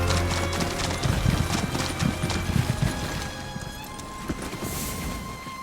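Horse hooves clip-clop in a steady trotting rhythm in Elder Scrolls Online, with a brief whinny, heard over a busy, loud game soundscape.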